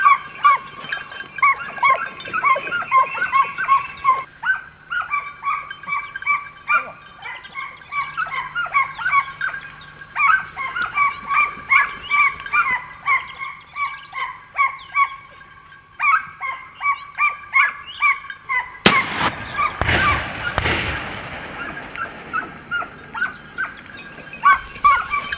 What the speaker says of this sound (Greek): η ησυχία της φύσης έδωσε τη θέση της στα γαυγίσματα των σκύλων.